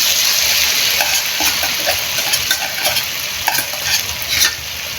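Chili paste being stirred and fried in hot oil in a pan, a constant bright sizzle with scraping stir strokes and small spatter pops, close and alone without talk.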